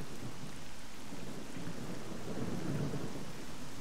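Thunder rumbles within a video game set around Pripyat, a low continuous roll under steady rain-like hiss, soft and distant with no voices.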